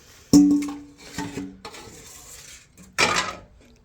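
A big old bowl clinks and knocks against a kitchen container as it dips into cornbread dressing mixture, with a sharp clatter at the start, a few lighter taps, and another bright clink near the end.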